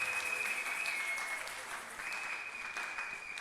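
Church congregation applauding steadily in praise, a dense, continuous wash of clapping with a few shouts above it, fairly distant and even in loudness throughout.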